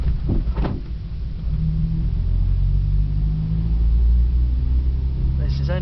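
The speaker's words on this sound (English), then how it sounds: "Speed bump coming up." A wheelchair-converted Renault Kangoo van in third gear rolls over a speed bump, heard as a steady low cabin rumble and road noise with a brief thump, with a voice speaking briefly.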